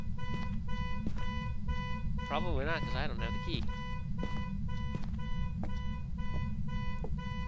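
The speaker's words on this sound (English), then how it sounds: "Let me see if I can come over here and turn that stupid car alarm off." A car alarm in the ghost-hunting video game Phasmophobia blares in steady, repeating electronic pulses throughout, while someone talks over it.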